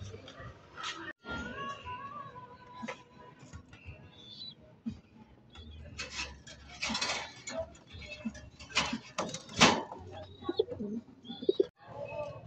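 Domestic pigeons, including a young bird from a red pair, coo softly and intermittently among some fluttering and handling noises, with a person talking over much of it.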